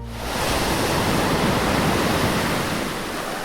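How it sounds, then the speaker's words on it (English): Seawater rushing and crashing back in, a broad roaring surge rising within the first half second and holding steady and loud, like heavy surf or a torrent, with no voices. "the water rushed back into its usual place"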